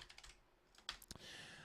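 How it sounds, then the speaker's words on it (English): Quick bursts of typing on a computer keyboard, a handful of soft clicks followed by a short flurry of keystrokes, very quiet and close. "I can try typing it in."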